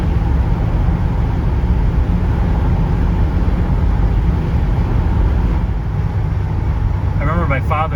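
A 1966 Pontiac Catalina 389 V8 coupe cruising at 85 mph, with steady loud wind and road roar over a low engine drone throughout, and a brief faint chirp near the end.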